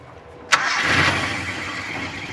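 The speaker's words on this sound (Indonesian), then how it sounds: "hidupkan mobilnya ya Om, nyalain dulu" A Toyota Kijang with a carburetor fault and running rough has its engine started: a sharp crank burst, then the engine catches and settles into a steady, nearby idle.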